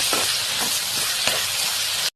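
Potatoes sizzle and fry in a pan as they are stirred, giving a steady loud hiss with soft scraping strokes from the stirring.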